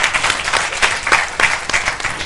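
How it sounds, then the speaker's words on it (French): Studio audience on a French talk show breaks into steady applause, dense rapid clapping that fills the short moment with a few louder accents. "Applaudissez pour ce choix déjà."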